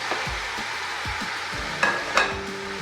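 Tomatoes added to chicken frying for a karahi, a steady sizzle under low stirring thumps and scrapes, with two sharper bursts of crackle near the end.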